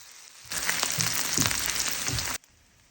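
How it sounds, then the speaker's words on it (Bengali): Chopped onion frying in a pan until light brown, a steady close sizzle that starts abruptly and runs for about two seconds before cutting off, with no talk over it. "পেঁয়াজকে এখন আমি হালকা বাদামি করে ভেজে নেব"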